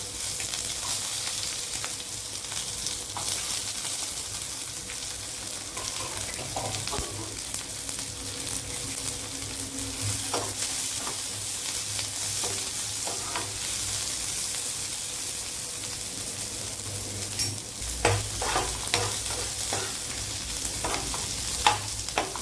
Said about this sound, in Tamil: வெங்காயம் வந்து ரொம்ப வதங்கணும், சரிங்களா?